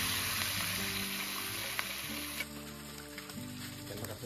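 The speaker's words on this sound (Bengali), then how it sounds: "এবার চিকেনটাকে ভালো করে ছোট ছোট পিস করে হালকা করে ভেজে নেব গরম তেলে" Small pieces of chicken seasoned with lemon and black pepper fry lightly in hot oil, a faint, even sizzling hiss running beneath steady background music.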